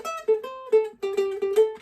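Ukulele picking part of a theme, a quick run of about eight bright plucked notes in a driving rhythm, close and alone.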